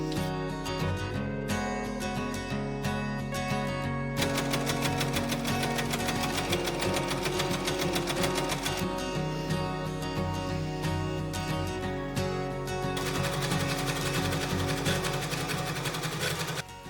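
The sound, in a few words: sewing machine stitching a dress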